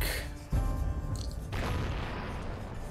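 Cannon fire in the Die Siedler strategy game, two deep booming blasts, the first sharp and loud at half a second, the second heavier at one and a half seconds, each trailing into rumbling noise.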